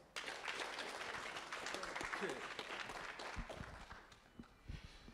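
An audience at a university orientation for fresh students claps for the program chair, a dense patter of applause at moderate distance with voices and shuffling underneath, tapering slightly toward the end.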